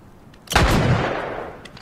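A single loud gunshot in The Last of Us fires with a sharp crack at about half a second, followed by a long booming decay that fades over the next second.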